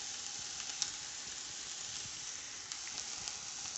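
Onions, ham and baby spinach cooking in a pan for a quiche, giving a steady, even sizzle that holds throughout with a few faint pops, close but soft.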